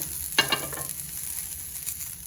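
Vegetables and paneer for a sweet corn salad fry in a pan with a steady, even sizzle. One brief stirring scrape sounds near the start, and there is no talking.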